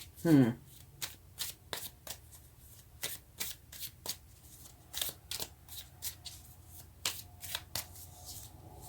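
Tarot cards are shuffled close up, making a quick riffling burst followed by a long series of crisp, irregular flicks and slaps, each short and sharp, with quiet gaps between them. A voice is heard faintly at the start.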